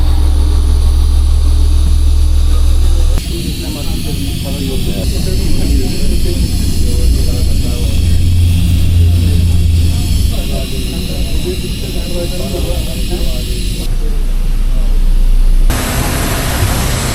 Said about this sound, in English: we are flying to Mazar on an Airbus A340, a much bigger aircraft than we expected